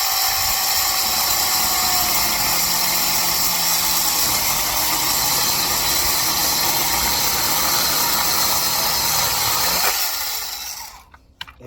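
A Handwise battery-powered mini chainsaw cuts through a 2-inch piece of wood with a loud, steady electric whine and rasping chain noise, then winds down and stops near the end.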